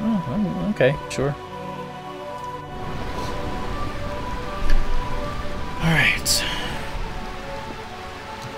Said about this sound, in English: Can't stand all this rain.